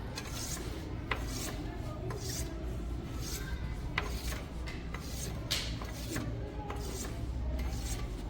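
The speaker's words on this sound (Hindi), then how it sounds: "जब हम ऐसे रब कर रहे होते हैं तो हमें एक चीज़ का ध्यान रखना जरूरी है कि पोल चेंज नहीं होने चाहिए" A magnet is rubbed again and again in one direction along an object in a classroom science demonstration, making steady, close scraping strokes that run continuously with no talking.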